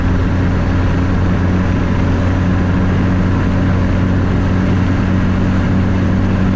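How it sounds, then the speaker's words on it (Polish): A 1998 Polonez fitted with a 3.0 V6 cruises on a motorway in strong wind, its engine a loud, steady drone blended with road and wind roar, constant from start to finish with no talk. "Trzeba przyznać, że jest to bardzo, bardzo elastyczny tutaj silnik w tym aucie z tą skrzynią."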